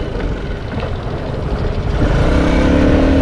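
A Piaggio Vespa VXL150 ABS BS-6 scooter on a test ride gives a low, steady engine drone mixed with road and wind rumble, its pitch rising slightly toward the end as it picks up speed, with no talking.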